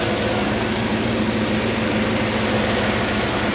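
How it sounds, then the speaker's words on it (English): Engine of a 2010 GMC Yukon with the DOD/AFM system deleted, running at high idle: a steady, dense rumble with no breaks and no voices over it. "As soon as it kind of gets rid of that high idle, starts getting its little lopey camness."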